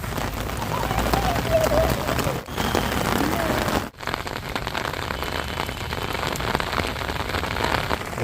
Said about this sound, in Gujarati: અત્યારે બહુ જ મસ્ત વરસાદ પડી રહ્યો છે